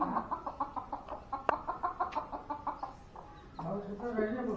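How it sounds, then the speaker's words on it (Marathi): A hen with seven chicks clucks in a quick regular series of short calls, then pauses before a louder burst of fowl chatter, close by in a village yard. "कोंबडीला किती पिल्लं आहेत?"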